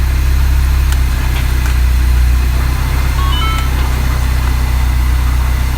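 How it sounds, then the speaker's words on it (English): A Mini Cooper S idles with a steady, even low engine drone that stays loud and close throughout, with no change in pitch and nobody talking. "Just let it sit and idle for a little bit."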